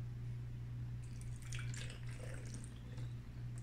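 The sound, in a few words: pouring water into a small container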